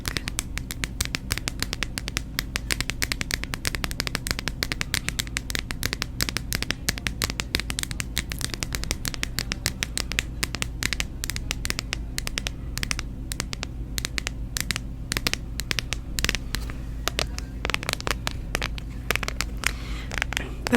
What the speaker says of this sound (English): The sticky side has a more muffled clack, and then the non-sticky side has like a sharper clack.